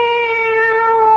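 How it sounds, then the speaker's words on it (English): A single drawn-out cat meow used as a radio drama sound effect, close, loud and steady in pitch. "It's the cat. She's back."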